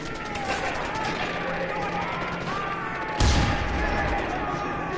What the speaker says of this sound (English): This guy won't die when I shoot at him with a sniper.